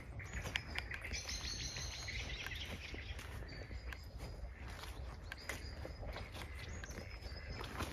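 Birds, including moorhens, chirp and tweet intermittently in a garden, several calls overlapping at a moderate distance, with soft rustling and footsteps underneath.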